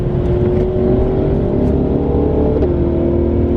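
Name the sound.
car with modified exhaust accelerating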